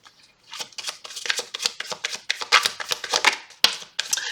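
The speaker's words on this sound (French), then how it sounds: "Alors je vais tirer encore une carte sur le changement." Tarot cards being shuffled and drawn, a run of crisp riffling and snapping card sounds close up, irregular and continuous, with no voice over them.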